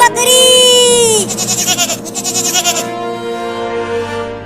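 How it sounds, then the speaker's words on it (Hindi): A cartoon goat bleats loudly and close by with a long, wavering, quavering cry that pulses rapidly before fading into a softer trailing tone. "बकरी।"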